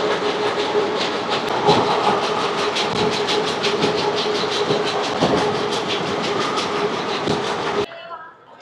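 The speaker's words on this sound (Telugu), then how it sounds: "ట్రైన్ అయితే గట్టిగా కొడుతున్నాడు" The 12711 Pinakini Superfast Express runs at around 110 km/h between Vijayawada and Chennai near Chirala, a loud steady roar with rhythmic wheel clatter and hiss that cuts off abruptly near the end.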